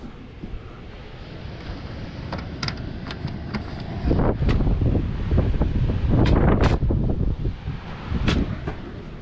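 Strong wind gusting at a beach camp on the Eyre Peninsula, buffeting the microphone in a steady roar that swells louder in rushes partway through, with faint surf-like wash underneath.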